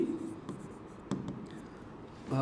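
Chalk or marker scratching across a board during a Bengali higher math lesson on particle motion, with short strokes and taps, fairly close, and faint room noise between marks.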